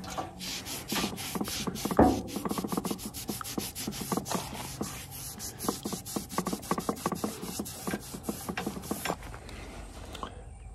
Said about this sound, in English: Wipe this off one more time with acetone.